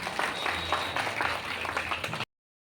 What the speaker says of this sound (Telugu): మన ముక్కాల ద్వారకనాథ్ గారికి మనస్ఫూర్తిగా కొత్త చప్పట్లు.